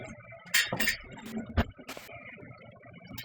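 A spoon clinking and scraping against a pan while mixing sloppy joe meat, several quick metallic taps and clanks close by in an otherwise quiet kitchen.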